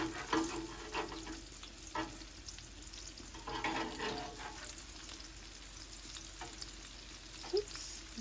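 Breaded pickles frying on a Blackstone griddle give off a continuous soft sizzle and crackle, with occasional light spatula scrapes and no voices, fairly quiet and close.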